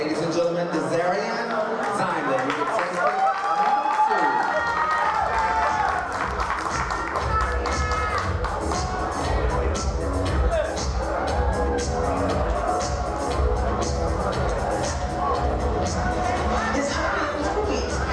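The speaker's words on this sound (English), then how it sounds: "Give him a big round of applause, ladies and gentlemen, Daesha." Audience applause and cheering greet a male contestant from Orlando, Florida, at a pageant stage event, a sustained dense roar of clapping and crowd noise with music underneath for the whole stretch.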